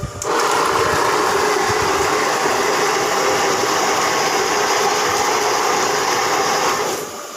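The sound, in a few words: portable handy washing machine switched on and running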